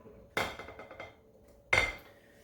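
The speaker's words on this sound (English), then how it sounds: "I'm going to stir that around to combine" Flour, salt and baking soda being stirred into cookie dough in a bowl, with two sharp clanks of a utensil against the bowl and softer scraping between them, close and clear, with no talking.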